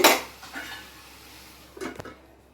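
A metal lid clanks sharply onto a pan of ridge gourd curry cooking with milk, one loud clatter at the start, a softer knock, then a second rattle of metal near the end.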